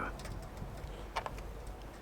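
Pigeons coo nearby in a series of soft, low, throaty calls, with a few sharper flutters or taps mixed in over quiet background noise.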